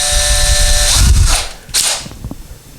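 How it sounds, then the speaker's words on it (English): A power drill whirs slowly into a tile wall in short bursts, close and loud, then tapers off into quieter clicks. "We're going to take our drill, and remember, we're going to drill it very,"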